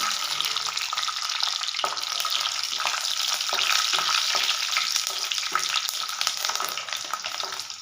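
Curry leaves and garlic crackle in hot oil for a curry, a loud, dense, continuous sizzle with scattered sharp pops and a few light stirring knocks, close up with no talking.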